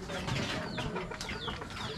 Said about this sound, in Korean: 뭐야, 쟤네 왜 싸워? 저 안에도 닭이야.